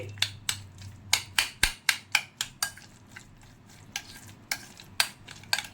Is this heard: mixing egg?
yes